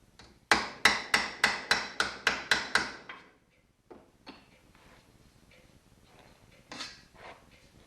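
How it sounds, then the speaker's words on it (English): Stainless steel trim is hammered down while being bent: eight sharp, evenly spaced metallic strikes ring out close and loud, followed by a few scattered, much fainter taps. "hammer it down while I'm bending it"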